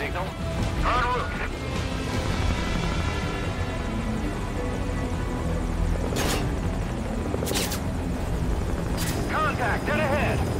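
Helicopter in Metal Gear Solid: Ground Zeroes, a loud continuous rotor drone running throughout, overlaid with gunfire cracks, impacts and shouted voices.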